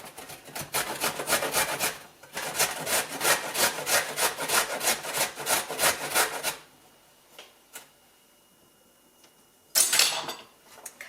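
Carrot being grated by hand on a grater for a microwave risotto, a loud fast run of rough rasping strokes that stops abruptly, followed by faint handling knocks and one more short burst of scraping.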